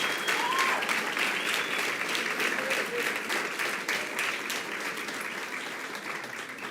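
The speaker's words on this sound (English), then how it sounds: "How about we give them a round of applause?" Sustained applause from an audience at a school board meeting for the Weslaco High School Dreamettes dance team, steady dense clapping fading slightly toward the end.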